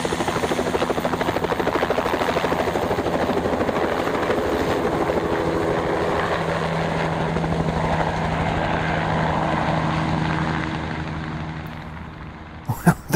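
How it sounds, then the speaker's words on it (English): A helicopter in flight with the door removed, over reservoirs in Britain: a loud, steady rotor thump and engine drone with wind rush dominating throughout, fading slightly near the end before a couple of sharp knocks. "So for the first time in a helicopter, and the door is off"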